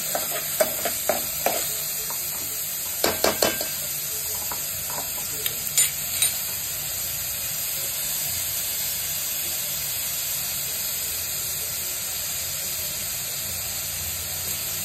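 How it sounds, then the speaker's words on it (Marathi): Chopped onion sautés in a pan for a stuffed crab curry, a steady close hiss and sizzle throughout, with a few sharp utensil clinks and stirring taps in the first several seconds, no voices. "मम्मी कांदा कोमवते, कांदा चांगला कोमवून घ्यायचा।"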